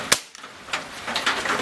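A Daisy CO2 BB pistol fires one sharp, loud crack at the very start, followed by a short tail of outdoor noise and faint rustling.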